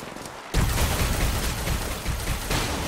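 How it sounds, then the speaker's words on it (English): A grenade blast in the Apex Legends Mobile video game, a loud burst of gunfire-like crackle and boom lasting a few seconds, starting abruptly after a quiet half second. "Nice nade. I burnt them."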